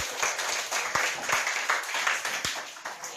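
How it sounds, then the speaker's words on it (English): A modest school audience at a high school mathematics debate claps for the judges: uneven, moderately loud applause with several distinct sharp individual claps standing out from the steady patter. "let's give one round of applause for our panel of judges"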